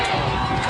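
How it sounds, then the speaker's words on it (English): A football crowd roars in the stands at a Hobart Brickies home game against the New Prairie Cougars, with a steady, dense wash of cheering voices that holds at an even level throughout. "as you can hear the roar of this Bricky crowd"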